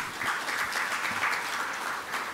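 Audience applause at an Indonesian national Islamic finance conference, a short burst of dense, steady clapping from a large crowd, close and fairly loud, with no voices over it.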